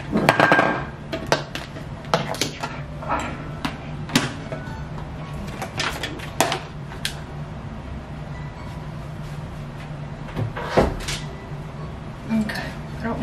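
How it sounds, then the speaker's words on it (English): Juicer and other kitchen items being shifted across a home kitchen counter near a rice cooker, giving irregular clatters, knocks and scrapes, some sharp and close, over low background hum. "I need to actually move my juicer out of the way."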